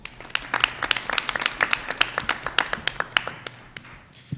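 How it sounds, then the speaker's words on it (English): Applause at a Board of Education meeting for generous school students and their families: a small audience claps in distinct, sparse, fairly quiet strikes that thin out toward the end. "Let's give them a big round of applause."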